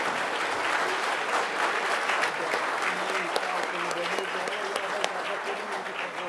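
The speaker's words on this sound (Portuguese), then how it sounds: "Uma salva de palmas, agraciados," Sustained crowd applause for honorees at a public security agents' tribute ceremony, dense and loud throughout with a few sharper claps standing out, and a voice speaking faintly beneath the clapping.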